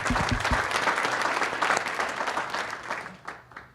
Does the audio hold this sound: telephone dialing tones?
no